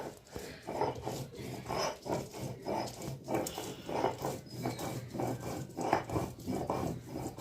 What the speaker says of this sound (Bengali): আর এখন আদা বাটছি দেখো